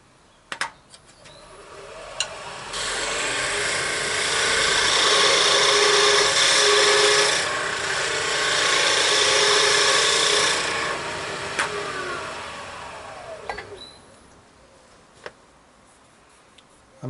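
Wood being turned by hand on a lathe, a steady broadband cutting hiss that swells for about ten seconds then fades, with sharp ticks and knocks from the tool at the start and end.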